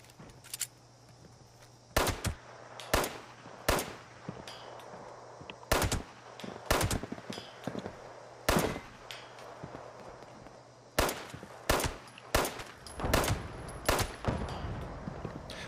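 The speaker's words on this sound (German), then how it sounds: "Aber es hört sich an, als hätte der eine richtig dicke Waffe da." Heavy weapon gunfire in the video game Fallout 76, scattered loud sharp shots and short bursts spread across the stretch, some in quick clusters, over a faint low hum.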